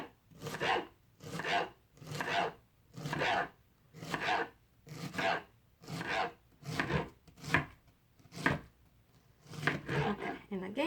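Knife slicing through a peeled pineapple in a steady rhythm of about a dozen close, wet, rasping cuts, each stroke evenly spaced.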